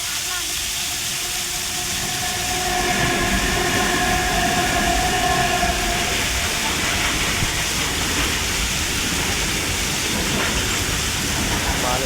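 A goods train with a new locomotive hauling cement wagons rolls past close by, a loud continuous rumble and hiss of wheels on rails that swells partway through and holds to the end.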